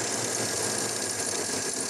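An old engine hums along steadily at idle without choke, a smooth, even mechanical drone with no pauses.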